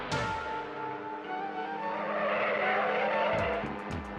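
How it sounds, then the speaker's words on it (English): An out-of-control sports car skids with a long, loud tire squeal and a roaring engine, ending in a few short chirps of rubber, no voices. "There's a sports car down there out of control."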